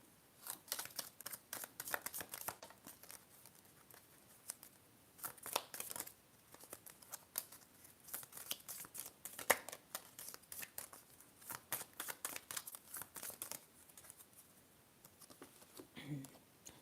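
Cards being shuffled and handled for a tarot reading, a close, soft stream of papery flicks and crinkles running throughout, with a few sharper snaps.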